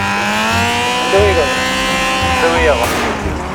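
In GTA 5, an old, rundown car with no doors drives along with a steady engine drone and slight shifts in pitch, loud and continuous throughout.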